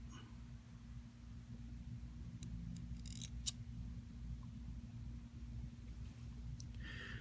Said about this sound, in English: at this point I'm going to just cut my legs to the same length